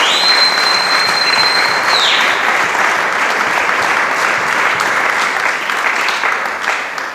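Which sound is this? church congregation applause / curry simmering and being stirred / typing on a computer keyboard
church congregation applause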